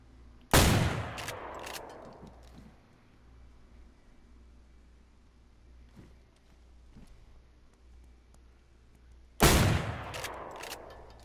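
Two loud, close gunshot blasts from a zombie video game, one near the start and one near the end, each with a long decaying boom, separated by quiet low background noise.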